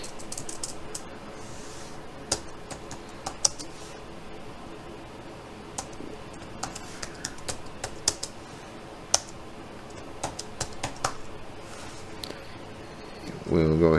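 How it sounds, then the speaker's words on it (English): Quick, light keystrokes on a computer keyboard tap out in irregular bursts against a quiet room tone, with brief speech at the very end. "And then in our text box, we'll just type in"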